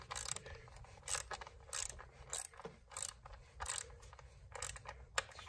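A ratchet clicks in quick bursts of rapid ratcheting, close and crisp, as bolts are tightened on a Chrysler Town & Country during MAP sensor replacement, with no talk.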